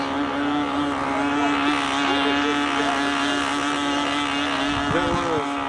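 A model aircraft engine with a big muffler runs loud and close at a steady pitch, with a strong buzzing tone, wind noise on the microphone, and a brief rising whine near the end.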